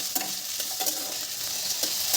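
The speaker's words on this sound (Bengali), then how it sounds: "আলুগুলোকে তেলের সাথে আমি 1 থেকে 2 মিনিটের মতন একটু ভালো করে ভেজে নেব" Medium-sized potato pieces fry in oil for a jackfruit-seed and potato curry, producing a continuous close sizzle broken by light scraping taps of stirring.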